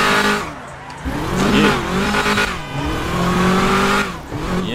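A Nova car in GTA 5 revs hard through repeated rising and falling engine pulls, loud and close, with tire noise mixed into the steady roar.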